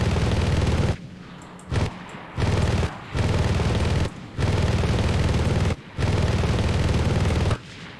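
Sustained bursts of heavy aircraft cannon and machine-gun fire from an IL-10 ground-attack plane in the Enlisted shooter game, loud and close, several long strings of rapid shots broken by short pauses, with no talk over them.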